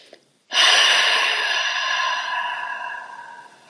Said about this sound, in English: Exhaling through the mouth is a purging breath.